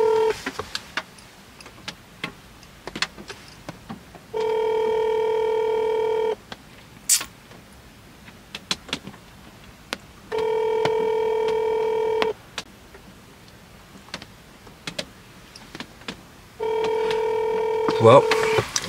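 An unanswered phone call to a business: the ringback tone sounds in three long, steady bursts of about two seconds each, spaced by quiet gaps with faint clicks and room noise, close and clear, with no one picking up.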